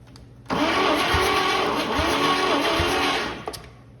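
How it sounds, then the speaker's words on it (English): An old Chevy 216 six-cylinder engine's starter cranks steadily for about three seconds during a dry compression test, a loud, dense grinding churn that starts abruptly and cuts off with a brief clunk. "that starter kicked back pretty hard, you know. It loaded up heavy when it cranked against some pressure"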